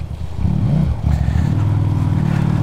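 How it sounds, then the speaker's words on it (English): A QJ Motors SRV 300 motorcycle is ridden, its engine droning steadily and close by with a brief dip and rising revs as the throttle is worked. "this is a nice little bike."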